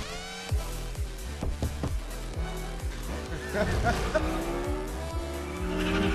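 A Rocket League car driven inside Fortnite revs and skids in repeated bursts of engine and tire noise over game music, with people talking and laughing throughout.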